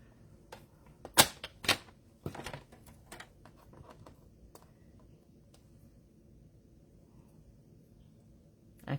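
Paper for a Christmas penguin tag being trimmed, a few sharp close snips or cuts clustered early, followed by quieter handling rustle and a faint tap at the end.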